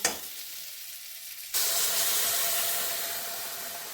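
Spices go into a pan of simmering bean curry, setting off a loud, sudden burst of sizzling and hissing that holds steadily, easing slightly over a few seconds after a quieter start.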